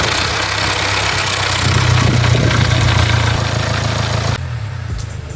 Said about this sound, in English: This is a Jaguar Land Rover 2-litre Ingenium diesel, a modern premium engine